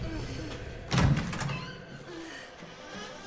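A door swings shut in Resident Evil 7 with a single dull thud near the start, followed by a low rumbling background.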